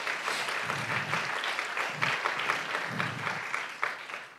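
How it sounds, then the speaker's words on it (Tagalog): A church congregation gives a loud, sustained round of applause during worship, dense crackling claps from many hands close by, with low thuds pulsing underneath every second or so. "Sige, palakpakan natin si Lord."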